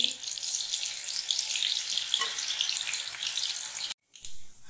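Soybean pakoras deep-frying in a kadai of hot oil, a steady dense sizzle and bubbling running close and loud before cutting out briefly near the end, then resuming.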